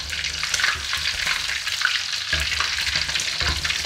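Oil crackles and sizzles steadily in a pan as fish fries, with occasional louder pops and a brief stirring scrape.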